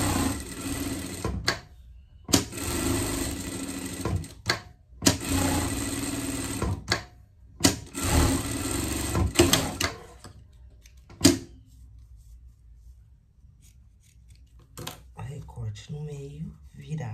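A home sewing machine stitches princess-style pet pajamas in several rapid, whirring bursts separated by short pauses, then falls quiet as someone talks.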